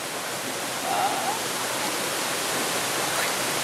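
Rushing water of Phlio waterfall, a dense continuous roar of steady broadband hiss, close and unbroken, with a faint brief voice briefly audible over it.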